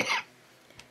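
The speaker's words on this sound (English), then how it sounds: "I have been fighting a cough." A single short cough, close and fairly loud, followed by near silence.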